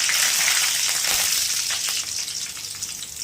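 Curry leaves, peanuts and two green chillies frying in hot oil for lemon rice, giving a loud, dense, continuous crackling sizzle that stays close and steady throughout with no talk.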